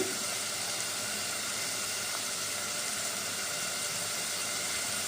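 Onions fry in a pan with salt added, giving a steady, close sizzling hiss that holds at an even level throughout with no voices.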